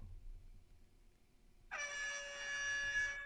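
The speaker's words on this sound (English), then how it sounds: "You ready for this air horn?" After a quiet moment, a loud, blaring air horn alarm from an Android egg timer app sounds, holding one steady tone for over a second before stopping.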